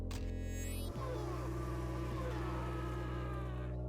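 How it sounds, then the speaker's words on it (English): A swarm of bees buzzes in the 1994 DOS game Magic Carpet, a dense, steady synthetic buzzing drone with layered wavering tones that hold throughout at moderate loudness. "in parts of the game it just spawns a whole lot of bees on you suddenly"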